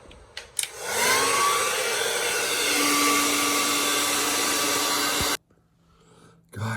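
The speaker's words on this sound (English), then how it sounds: "Good thing we have the blow dryer." Blow dryer running continuously for several seconds with a steady loud whirring hiss and a rising pitch as it spins up, then cutting off abruptly to near quiet.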